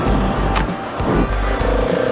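A trail motorcycle engine drones steadily and close while riding off-road over small jumps, with brief dips and surges in pitch as the rider works the throttle, and there is no talking.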